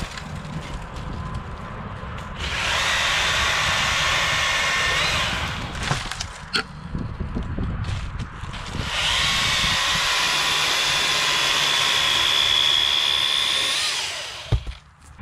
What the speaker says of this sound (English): So here we have a really high branch. It's about maximum extension for us, and I can cut it off and not drop the saw